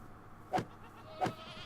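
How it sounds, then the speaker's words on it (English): A goat bleats twice in the Minecraft video game, two short evenly spaced cries over a low steady background. "I mean, I can kill that goat"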